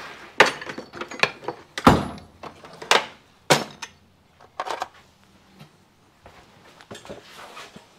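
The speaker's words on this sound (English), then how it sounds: "Probably going to have to knock them out with a little hammer." Sharp knocks from a small hammer strike parts on a Yamaha Twin Jet outboard motor at irregular intervals, some loud and ringing, others lighter taps, with quiet gaps between.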